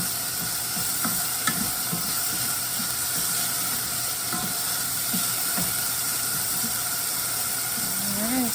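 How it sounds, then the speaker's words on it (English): Onion frying in a pot for a veggie lentil stew: a steady, soft sizzle and hiss with occasional light stirring scrapes and taps, close and without talk. "You want the onion to start coloring a bit, but that's it, no more than a bit."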